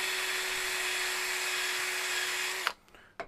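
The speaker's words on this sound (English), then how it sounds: "So now I'm just going to use the wire wool attachment." Power drill spinning a wire wool attachment inside a TaylorMade Stealth golf club head, a steady high whine with scraping hiss that cuts off abruptly near the end, followed by a couple of clicks.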